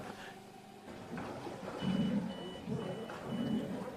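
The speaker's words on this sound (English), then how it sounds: "you hear the beep coming out of that ski nautique" Repeated beeps from a Ski Nautique tow boat at a junior waterski world championship, sounding as paired pulses over a low engine drone and ambient outdoor noise.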